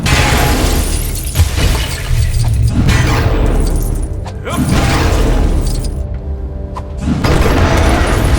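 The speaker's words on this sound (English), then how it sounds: "Another fiery explosion with more of Zod's men trying to hunt me down." Fiery explosions in the Lego Batman 3: Beyond Gotham video game, a loud, continuous roar of blasts and shattering debris with booming surges that fill the whole stretch, with no voices.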